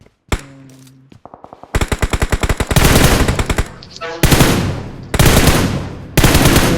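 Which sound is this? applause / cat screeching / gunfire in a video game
gunfire in a video game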